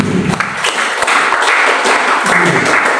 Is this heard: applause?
yes